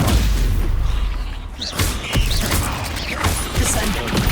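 Spell blasts from Confringo and Stupefy in Hogwarts Legacy, loud booming impacts and crackling bursts in quick succession over a dense, rumbling game soundscape.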